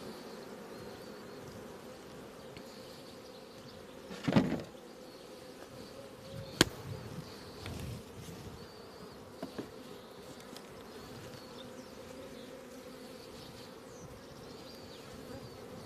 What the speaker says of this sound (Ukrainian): гарний в нас рій